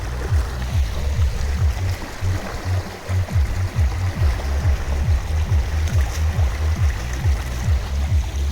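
Strong river current rushes steadily beneath the Jaldhaka bridge, a loud, continuous watery roar with a rhythmic low thumping pulse running underneath.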